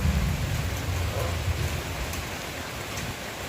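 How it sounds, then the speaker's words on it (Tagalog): Steady rain falling outdoors on a dark evening, a constant broadband hiss of drops on surfaces with a low rumble underneath, unbroken and fairly close. "Umuulan pa mga dudes, oh."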